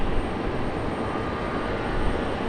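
An American Airlines jet takes off from Raleigh-Durham airport with a loud, continuous engine roar, deep rumble and hiss holding steady through the short stretch.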